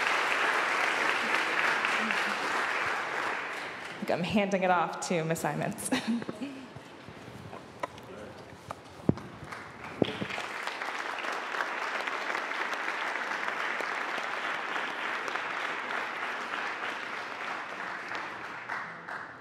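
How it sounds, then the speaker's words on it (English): An audience at a Justice Department event marking the Brown v. Board anniversary breaks into applause, a full steady wash of clapping, interrupted midway by a stretch of speech before the clapping swells again and continues. "Let's give a huge round of applause"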